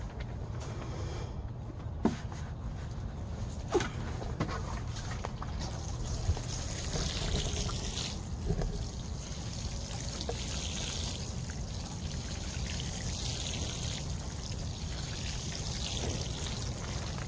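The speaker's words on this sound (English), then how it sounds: "Now I'm going to water them in." Water trickling and pouring steadily onto newly planted sugar snap peas in a garden bed, a soft continuous stream with a few faint knocks, no talking.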